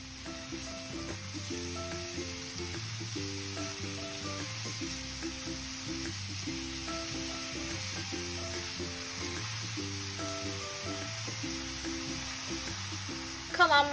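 Oyster mushrooms with their chopped stems sizzle in butter in a frying pan, giving a steady, moderately loud fry hiss all the way through, while a musical tone pattern plays quietly underneath and a brief clatter comes at the very end.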